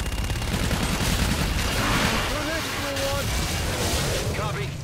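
Aircraft gun run in Call of Duty: Infinite Warfare, a sustained roar of rapid gunfire filling the whole stretch, with radio-style voices and whistling tones over it.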